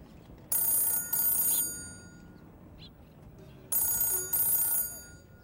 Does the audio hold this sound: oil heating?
no